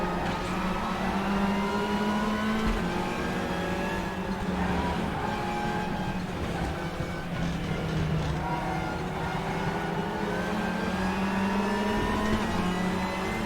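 Racing car engines in the Raceroom sim at Sachsenring, with several cars bunched together, whine and rise in pitch as they rev through gears, a steady layered drone of nearby and following engines with no talk.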